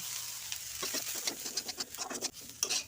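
Roasted semolina being stirred into fried vegetables in a pan for upma, with uneven scraping strokes and a soft sizzle underneath, close up and without speech.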